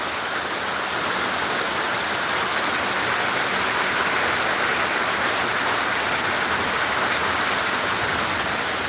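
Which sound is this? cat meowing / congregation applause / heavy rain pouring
heavy rain pouring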